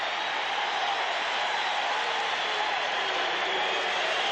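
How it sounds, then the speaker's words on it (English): Steady roar of a packed football stadium crowd at an Eagles home game against the Chargers, a dense broadband wash of cheering that holds even and loud throughout with no clear talk. "The crowd is arising."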